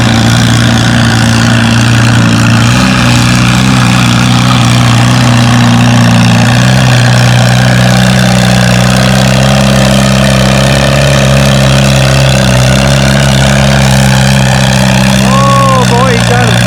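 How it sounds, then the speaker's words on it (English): Loud pulling tractor engine at a fall tractor pull event, a steady deep rumbling roar with layered low harmonics that holds for the whole stretch, with a faint rising whine near the end. "Coming at us next is Eric Bauman on Itty Bitty"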